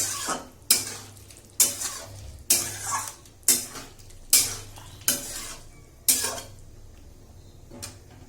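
Potatoes and paneer with spices are stirred in a pan, a spoon scraping and knocking the metal in about eight sharp, regular strokes over a soft, steady sizzle, with no voices.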